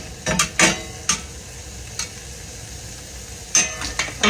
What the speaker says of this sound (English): Let's flip our sausage a little bit.